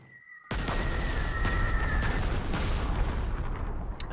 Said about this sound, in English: And then hit him with artillery.